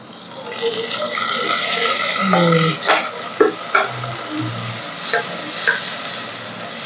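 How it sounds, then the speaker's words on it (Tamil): Onions and tomatoes sautéing in a pan for a Thoothukudi-style seela fish curry, with a steady low sizzle and a few scraping stirs and clinks near the end. "தக்காளியும் வந்து வதங்கட்டும்"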